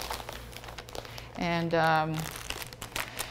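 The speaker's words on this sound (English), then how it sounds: "you can put them back into the plastic bag" A plastic bag crinkles loudly for just under a second, used to repack finished art materials at an art talk, preceded and followed by a speaking voice with steady background hum.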